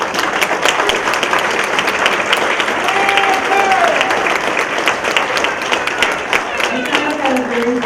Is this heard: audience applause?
yes